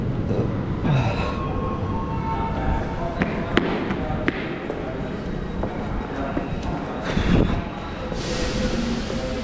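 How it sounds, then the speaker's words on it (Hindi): A train rumbles through a railway station in Berlin, steady rolling noise with clanks and brief squeals, while people talk nearby. "ये यहाँ के नॉर्मल स्टेशन है।"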